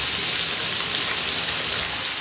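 Tilapia fish frying in hot oil, a loud, dense, continuous close sizzle with a constant hiss and no talk.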